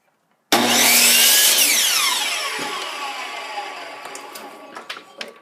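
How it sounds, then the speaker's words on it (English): A power saw bites into a wooden board with a sudden loud whining cut that slowly winds down as the blade spins to a stop, followed by a few light knocks and handling sounds. "So I'm going to cut this one off because it's bad."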